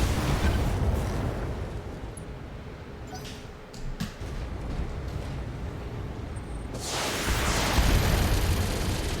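Mech weapons fire at enemies in the Battletech video game, with a dense, continuous rumble of explosive bursts and booms. It swells louder near the end, with no talk over it.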